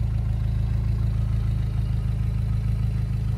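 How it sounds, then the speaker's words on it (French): A 2003 Lotus Elise S2 111S with its Rover engine runs steadily, a loud, even low-pitched drone close by with no talking. "Voilà le petit essai de notre Lotus Elise 111S avec le moteur Rover."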